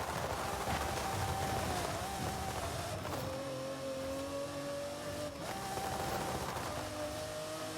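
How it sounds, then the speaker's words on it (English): A Lamborghini Diablo's engine drones steadily at high revs with shifts in pitch, heard loud and close as from inside the car, with no distinct backfire pops standing out. "I love hearing the backfire."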